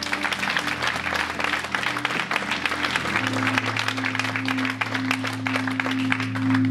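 A church congregation claps in sustained, dense applause that stays loud throughout, with steady low organ or keyboard tones sounding underneath.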